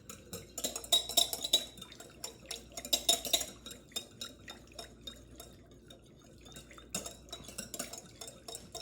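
A whisk clinks and scrapes in quick bursts against a bowl while an oil-based salad dressing is emulsified, a quiet close-up rattle that pauses and resumes.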